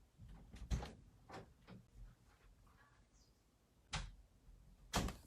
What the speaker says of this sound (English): I'm mad to keep opening and closing my door if y'all hear that.